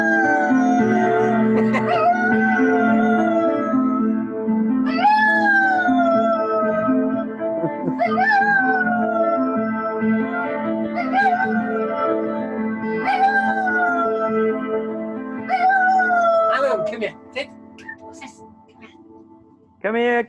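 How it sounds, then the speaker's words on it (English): A dog howls in long, rising wails that repeat several times over sustained piano-like tones, the howls fairly close and loud. "Can you hear the dog?"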